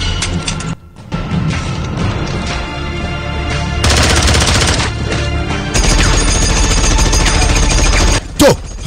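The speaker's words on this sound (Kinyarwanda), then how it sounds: "Umve imbunda wowe." Film gunfire, loud rapid machine-gun bursts and volleys of shots mixed with soundtrack and effects, nearly continuous with brief gaps.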